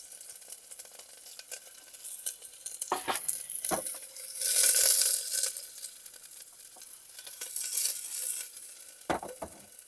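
Close, steady sizzling of food frying in hot oil on a low gas flame inside a camper van, swelling louder midway, with occasional clinks of a utensil against the pan.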